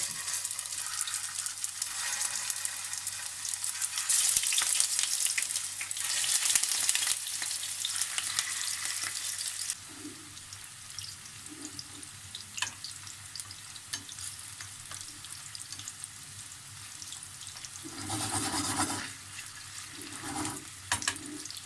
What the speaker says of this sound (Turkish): Köftelerimi yağda kızartacağım.